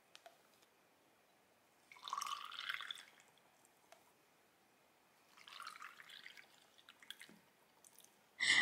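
Water poured from a measuring bottle into baby bottles while making up formula, heard as two short splashing pours with soft drips and small clicks between them, quiet and close.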